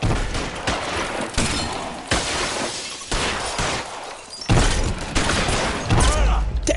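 Shotgun blasts in LA Noire from an automatic 12-gauge, loud booming shots arriving at irregular intervals about a second apart, close and heavy, with game noise and a voice in between.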